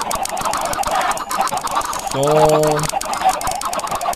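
Chicken clucking from Minecraft, a short game-animal sound with stacked tonal bands lasting under a second, heard in the middle of a busy in-game background.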